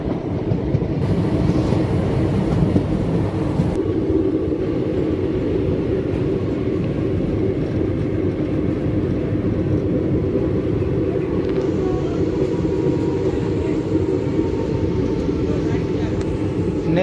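A train runs along a railway main line with a steady, loud rumble, the rhythmic clatter of wheels on track and some wind noise throughout, heard from onboard with a voice talking over it.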